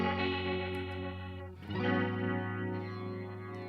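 Electric guitar played through a Fender amp with modulation and chorus-like effects, sustained ringing chords with rich harmonics, a brief dip in the middle before a strong re-attacked chord, steady and loud with no talking.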